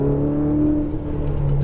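A Lamborghini Huracan Performante pulls out onto the straightaway of a Las Vegas track, its engine droning steadily and loudly from inside the cabin as it accelerates smoothly, with a rising whine near the end.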